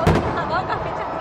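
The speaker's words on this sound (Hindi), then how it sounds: "इस मौसम में इस तरह की आतिशबाजी 14 अगस्त की रात को एंजॉय करना" Fireworks bursting over an Independence Day night celebration at Minar-e-Pakistan in Lahore, a loud pop at the start followed by a dense, continuous crackle and rumble of the crowded outdoor display.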